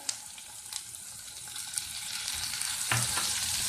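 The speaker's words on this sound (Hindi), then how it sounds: "फ्राई कर लेंगे इसे अच्छी तरीके से" Tomatoes fry in a pan for baingan bharta, giving a steady broadband sizzle that builds slightly louder, with a few stirring scrapes and a soft clunk near the end; no talking.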